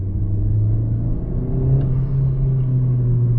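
A deep, steady Honda Civic Type R FK8 intake roar with a strong low hum and slight rising pitch, continuous and close throughout.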